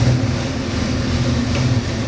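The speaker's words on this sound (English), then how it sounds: "This will be our 425 horsepower 347. Gonna fire it up," A Ford 347 cubic-inch small-block stroker crate engine rated at 425 horsepower, built for a 1967 Mustang, runs with a steady, loud low rumble and an even, continuous drone throughout.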